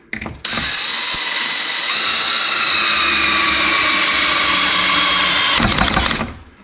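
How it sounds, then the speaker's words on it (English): A cordless drill with a torque-setting slip clutch drives screws into an Adirondack chair, whirring loudly and steadily for several seconds before a clicking ratchet burst as the clutch slips, with short bursts of rattling at the start and end. "So in this case, when we drill these in,"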